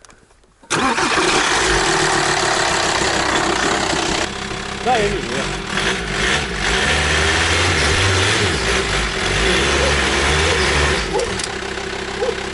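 A car engine cranks and catches from cold, then settles into a steady, slightly uneven idle with dipping revs, with a couple of short spoken words over it.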